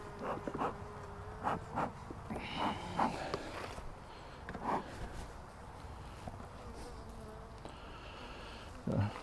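Agitated bees in a hive that has been smoked during a mite treatment make a faint, intermittent buzzing. Scattered clicks and soft handling knocks sound close by.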